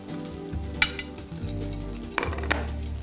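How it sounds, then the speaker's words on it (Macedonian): A tortilla with melting kashkaval cheese sizzles steadily in a frying pan, a continuous close frying hiss with a few brief clicks and stirring sounds, no talking. "Слушате прекрасниот звук, тоа е тортилјата која веќе се грее, кашкавалот се топи"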